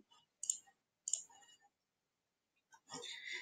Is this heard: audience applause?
no